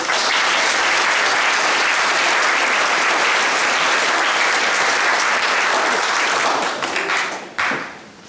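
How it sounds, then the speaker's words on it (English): A large audience applauds steadily for several seconds at a college prize-giving ceremony, then the clapping thins out and dies away near the end. "Another round of applause for all our work."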